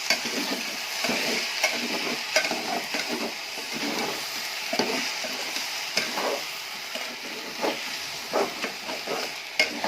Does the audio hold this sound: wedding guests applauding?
no